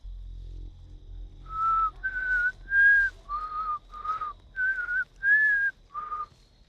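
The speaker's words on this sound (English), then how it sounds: "Someone's whistling." Someone whistles a tune in a house, a clear sequence of about eight distinct pitched notes with short gaps between them, fairly quiet and alone against a low background rumble.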